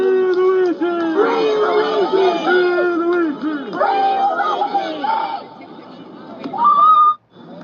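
A crowd outside cheers, chants and whistles in played-back footage, loud rising and falling voices in unison, with a sharp whistle near the end before it cuts off abruptly.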